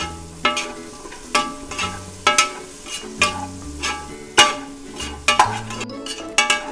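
Coriander leaves, mint and green chillies are sautéed for mutton dum biryani, with repeated rhythmic knocks and scrapes of a ladle against the pot over a soft background sizzle, close and fairly loud.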